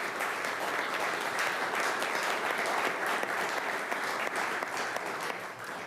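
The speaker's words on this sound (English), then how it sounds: "If we could all give a round of applause to the U15 boys." A council-chamber audience in St. Catharines applauds the U15 boys team, steady sustained clapping from many hands filling the room for several seconds, with faint crowd murmur underneath.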